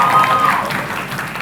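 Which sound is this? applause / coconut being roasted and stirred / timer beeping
applause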